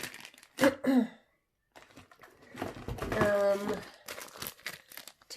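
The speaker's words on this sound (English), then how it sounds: "I keep having to pause just to clear my throat." Someone clears their throat with a couple of short rough bursts near the microphone, followed by a pause and then a strained, raspy vocal sound.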